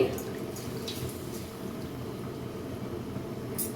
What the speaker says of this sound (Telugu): ఇందులో కొన్ని నీళ్ళు వేయాలండి.